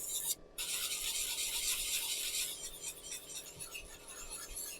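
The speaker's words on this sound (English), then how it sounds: "So doing this dry sanding, it's normally where I will end up with the blisters." Close, dry scratchy rubbing of abrasive against a pen being hand-sanded, a steady rasping stroke that briefly stops near the start and then continues more softly.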